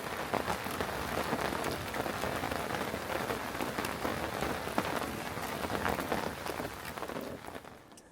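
Steady outdoor rain patters on surfaces around a carp fishing spot, a dense continuous hiss close by that fades slightly at the very end.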